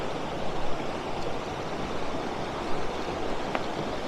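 A river stream flows on toward a second waterfall, a continuous broad rushing wash of water that holds steady and close throughout, with no voices.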